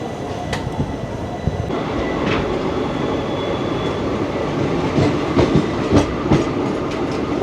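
The Chitrakoot Express pulls out of platform 2 at Unnao Junction with a steady rolling rumble, rhythmic wheel clicks over the rail joints and occasional faint squeals, heard from on board.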